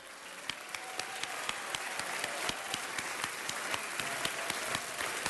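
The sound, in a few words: audience round of applause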